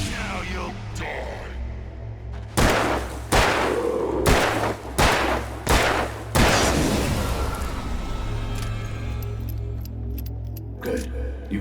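Gunshots in the video game Alan Wake, a run of loud, close blasts fired one after another at a steady pace over a low humming drone, then fading into quieter ambience.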